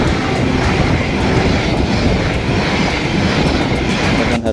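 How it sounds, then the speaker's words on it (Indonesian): The Sancaka express train roars past at close range through a station on track 3, a steady rumble with rhythmic wheel clatter filling the whole stretch, no voices. "Hati-hati dari arah barat kereta api Sancaka sekarang langsung lewat jalur 3"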